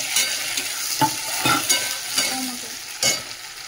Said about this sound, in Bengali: এই দেখো আদা রসুন বাটাটা তো যে তেলের মধ্যে একটু ভেজে নিলাম।